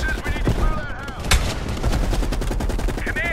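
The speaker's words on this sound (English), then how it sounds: "you followed the road right toward the sound of gunfire" Gunfire in the Call of Duty: Black Ops Cold War campaign crackles in rapid, dense bursts, with loud nearby shots over a continuous background rattle, and a voice is briefly heard among the shooting.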